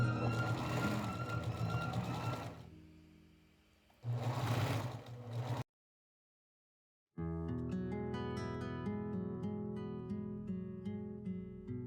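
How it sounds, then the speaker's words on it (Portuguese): A sewing machine stitches the folded hem of an elastic skirt, running in two loud, steady bursts with a brief pause between, then falling silent, followed by a different, tonal stretch. "eu vou dobrando, ajeitando aqui com a minha mão e vou passando a costura"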